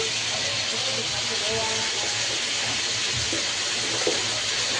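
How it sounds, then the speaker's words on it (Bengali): Unsalted butter melts in a hot pan for lemon butter chicken, giving a continuous, even sizzling hiss that holds steady throughout with no clear breaks. "বাটার দিয়ে দিচ্ছে গুলটু"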